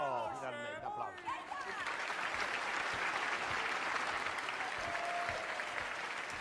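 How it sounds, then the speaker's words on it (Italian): Applause from an audience at a theatrical comedy performance, a dense steady wash of clapping that follows a few words of speech and carries on evenly at moderate loudness. "Oh, finalmente, applausi."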